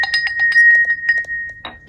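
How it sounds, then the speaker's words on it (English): Large ritual bell struck in quick succession, a series of bright metallic rings over a sustained ringing tone, then a final strike that decays, close and loud. "In addition to everything else, I have a bell. This one's really big. It's beautiful though, and it makes such a great sound."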